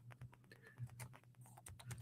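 Fast clicking of keys on a computer keyboard, quick irregular taps close by and fairly quiet, with no voices.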